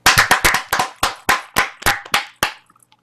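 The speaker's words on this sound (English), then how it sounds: "Clap it up big time." About a dozen sharp hand claps ring out in a loose, uneven rhythm, loud and close, then stop.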